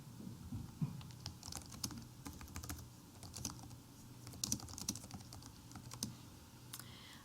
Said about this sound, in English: Typing in the question